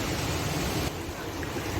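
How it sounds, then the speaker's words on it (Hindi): The Malini river at Kanva Ashram in Kotdwar, swollen by two to three days of continuous rain, rushing in a loud, unbroken roar that dips slightly partway through, with no talking. "जिसकी वजह से मालिनी नदी इतने उफान पे है"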